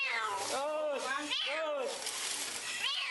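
A cat trapped in a well meows repeatedly during a rescue by Semarang firefighters, several drawn-out, fairly loud cries in a row with a breathy, echoing background.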